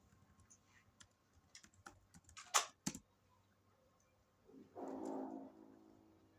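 Quick, light clicks of a computer keyboard tap out code in short uneven bursts, close and quiet, ending in a brief louder flurry, followed by a soft muffled rustle.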